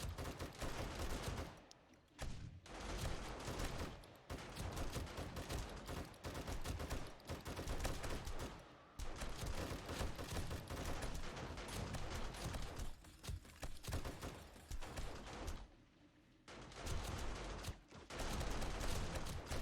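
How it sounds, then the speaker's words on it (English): Dart traps in a video-game zombie horde base fire in a dense, nearly unbroken barrage of sharp, loud clacking shots, with brief gaps around the two-second, nine-second and sixteen-second marks. "Hear the darts going off."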